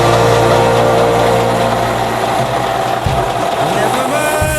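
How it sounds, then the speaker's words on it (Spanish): A car engine with a carburetor runs at a steady loud idle, then sputters and stumbles as the carburetor intake is covered, its rhythm breaking up toward stalling. "cómo al taparle la boca al carburador en tan solo unos instantes se detiene el motor"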